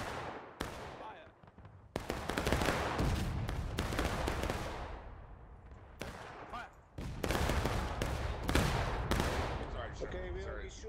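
A volley of gunfire rings out at a Gettysburg reenactment: sharp, loud musket cracks, several in close bursts, with ragged intervals and some pauses between the shots.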